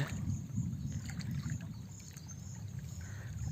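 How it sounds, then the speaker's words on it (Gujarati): A rural stream channel beside farm fields, swollen with rainwater, flows in a steady low rushing wash with no voices. "આ વના ટાંકવાળા વેણમાં એટલું પાણી આવે છે"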